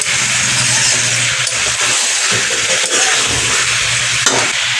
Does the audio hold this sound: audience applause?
no